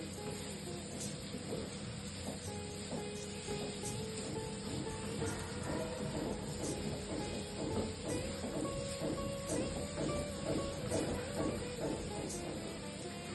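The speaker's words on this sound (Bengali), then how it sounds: "পেঁয়াজটা ভাজা ভাজা হওয়া পর্যন্ত" Chopped onions fry with potatoes in a pan, giving a low, continuous sizzling hiss with faint repeated stirring scrapes under it and no talk.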